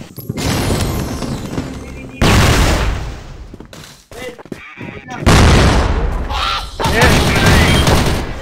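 Loud gunfire and explosive booms from a CrossFire clan-war match, with a grenade blast among heavy bursts that cut off abruptly, a short lull, then more sustained firing and booms.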